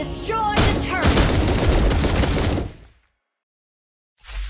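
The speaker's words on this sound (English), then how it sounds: "Behold, my crescendo bullet." Granger's crescendo bullet in Mobile Legends fires a loud, rapid volley of gunshots for a couple of seconds, then cuts to silence before a short burst of sound returns.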